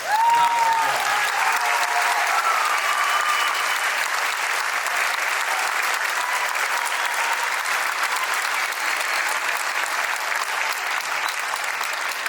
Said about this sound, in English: give Lincoln Morris a round of applause.